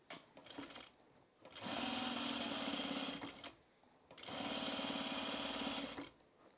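Sewing machine stitching through the binding of a Sylvan jacket, running in two steady bursts of rapid mechanical whirring separated by short pauses, close and alone.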